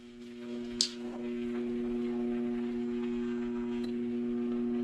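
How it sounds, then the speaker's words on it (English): A pottery kiln hums steadily on its low setting as it starts heating for a bisque firing, a constant close electrical drone with a brief click and a small knock partway through, no talking. "And now you can hear that kiln."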